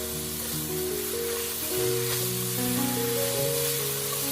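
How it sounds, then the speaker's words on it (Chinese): Garlic sprouts being quickly stir-fried with pork ribs in a wok, making a soft continuous hiss and sizzle while steady background music plays over it. "最后把蒜苗加进来，继续快速翻炒，把蒜叶炒至断生就可以啦。"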